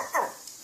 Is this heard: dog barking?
yes